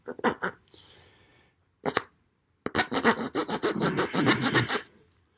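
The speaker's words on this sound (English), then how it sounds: "Make a pretty decent rasp if you needed to smooth out a piece of wood" The saw-back spine of an Ontario SP 2 knife rasps across a piece of wood in short, scratchy strokes: a few separate scrapes, a pause, then a fast run of rhythmic, close rasping.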